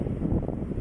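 Strong wind rumbles and buffets across a hillside olive grove, a dense low roar that fills the short moment with no voices.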